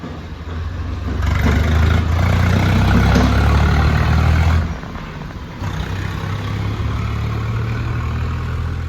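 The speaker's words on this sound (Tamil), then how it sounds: "ஒரு டிராக்டர் ஒன்று வருது." A nearby diesel tractor engine chugs loudly, swelling as it draws closer, then its steady low rumble drops slightly and continues close by.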